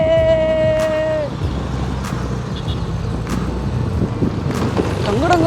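A scooter is ridden fast over a speed breaker, producing a steady engine drone mixed with road rumble. A brief tonal whine sounds near the start, followed by a few soft bumps.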